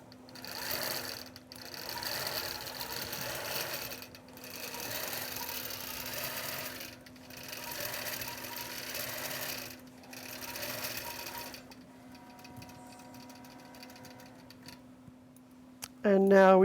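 An embroidery machine stitches a game board pattern, joining sections by dragging threads between them. It runs in steady mechanical bursts with brief pauses, then stops, leaving a low hum and a short voice at the end.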